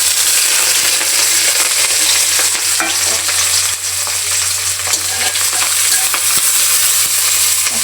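Okra and other ingredients tipped into hot oil in a karahi, giving a loud, steady frying sizzle with stirring scrapes throughout and no voices.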